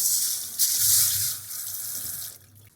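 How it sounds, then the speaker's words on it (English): Water runs from a tap onto azuki beans in a colander in a sink, a steady close splashing rush that shifts as the beans are rinsed, then quiets. "First, wash the azuki beans using a colander"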